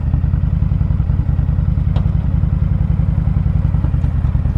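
A Honda VTX1300 Champion trike engine idles with a steady, close, loping mechanical rumble, and a faint click sounds once as the rider works to find neutral.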